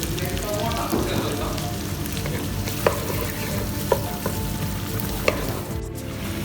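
Garlic and onions browning in a pan for butter chicken give a dense, continuous sizzle, close and steady, broken by a few sharp clicks of a utensil tapping the pan, no talking.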